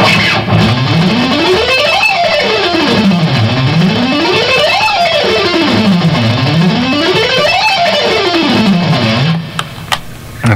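An electric guitar races up and down a wide octave scale in repeated sweeping runs at full tempo, loud and continuous, ending with a brief scrape.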